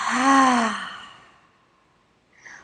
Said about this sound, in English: Exhale out the mouth.